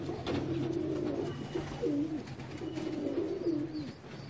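A pigeon coos close by in repeated low, throaty warbles, a soft rolling call that rises and falls over a quiet background.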